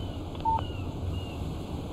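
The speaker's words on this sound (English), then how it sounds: "text message from Barry" A short electronic alert tone from a phone in Alan Wake Remastered signals an incoming text message, a brief tone over a quiet game background hum.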